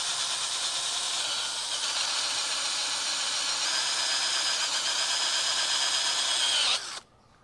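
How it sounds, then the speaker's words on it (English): A power drill fitted with a sanding pad, polishing a cloudy vintage motorcycle gauge lens, whirs steadily with a hissing, grinding tone for about seven seconds, then cuts off abruptly. "I just put the sanding pad on the drill, so let's see what happens."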